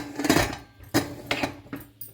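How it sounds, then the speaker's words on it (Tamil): Four quick metallic clanks ring out close by as a heavy pressure cooker lid is set and fitted into place. "குக்கர் மூடி போட்டுறலாம்."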